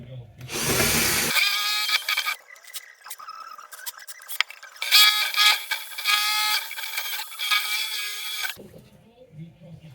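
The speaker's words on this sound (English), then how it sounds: "It doesn't feel like these drill bits are doing anything." A power drill whines in steady bursts on the jacking point of a 1967 split-screen van, stopping and restarting several times, close and loud, with brief muffled sounds around it.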